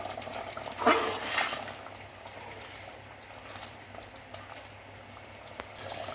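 Goat head curry with coconut powder and ground cumin and fenugreek being mixed in a pan: a couple of scraping stirs early on, then a quiet, steady bubbling simmer.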